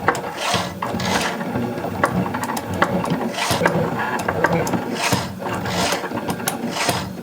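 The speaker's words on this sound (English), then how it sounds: "Then you can press go to start engraving." A Cricut machine engraving metal plant labels: a close, repetitive mechanical whir and scrape that rises and falls in regular bursts of grinding, ratcheting passes.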